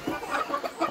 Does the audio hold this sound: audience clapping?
no